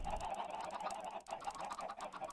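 Chickens cluck continuously in a Minecraft modpack game, a faint but steady cluster of rhythmic, overlapping clucks and squawks with no talking over them.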